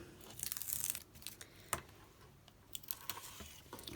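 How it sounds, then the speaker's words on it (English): Tape peels slowly off paper around a painted illustration with ink on it, a close crackling tear with brief sharp snaps, fairly faint and with no talking. "I'm just going to just peel away the tape on that one,"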